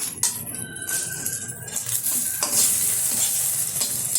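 Egg omelette sizzling and frying in a pan, cooked until well browned, with steady crackling hiss throughout and a brief stir or scrape near the start.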